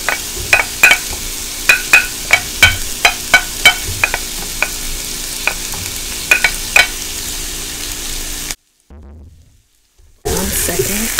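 Garlic and salami sizzle in a hot pan, a steady fry punctuated by regular sharp clicks and taps of stirring, then a brief silence followed by a burst of louder sizzling.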